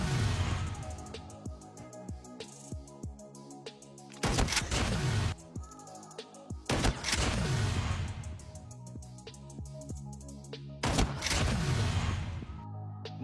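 Gunshot bursts from Call of Duty Mobile fired at a training bot, sharp loud volleys in several clusters over a continuous musical game background.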